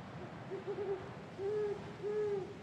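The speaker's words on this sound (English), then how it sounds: "Owl sound though." Owl hooting in the video game Folklore: a few drawn-out tonal hoots repeat at a moderate distance over a steady, murky ambient background, with no voices.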